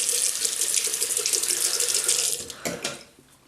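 Tap water runs into a sink, rinsing a shaving brush in a loud steady splash that cuts off with a few drips and a soft thud before fading out.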